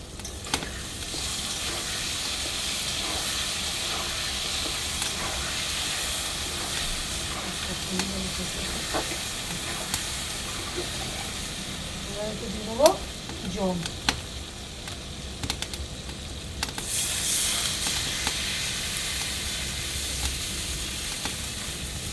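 Chillies sizzle steadily in a pan over a wood fire while a fish curry is being cooked, with a continuous frying hiss throughout and a few brief clatters near the middle.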